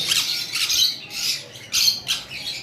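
Sun conure parrots kept for sale let out a run of harsh, high squawks, four or five shrill bursts close by with no talking.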